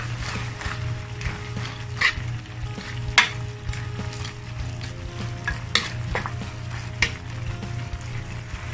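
Lomi broth in a pot, a continuous bubbling sizzle with a low steady hum underneath and scattered clinks and scrapes of a utensil against the pot.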